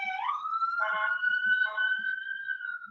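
A police patrol car siren wails in a steady rising and falling sweep, fairly loud and passing nearby with no voices over it.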